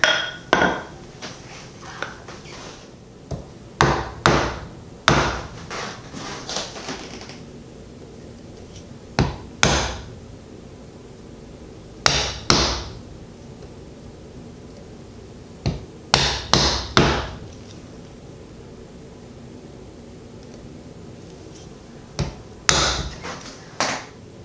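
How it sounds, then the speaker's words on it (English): Chisel chopping out a stopped rabbet in a wooden shadowbox case, sharp close mallet-driven strikes coming singly and in quick clusters of two or three, separated by brief pauses. "I just went ahead and kind of chopped some of that out"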